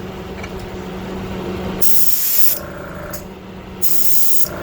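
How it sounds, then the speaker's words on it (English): Short bursts of airbrush spraying pearl white paint onto a crankbait fishing lure hiss on and off, two loud blasts separated by a pause, over a steady compressor drone. "Spraying away from the lip because I don't take my lips off."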